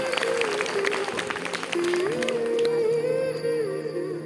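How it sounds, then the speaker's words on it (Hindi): At a school annual function, an audience claps through the first half, the applause sitting beneath loud sustained music that carries on after the clapping thins out. "एक बार शानदार तालियां"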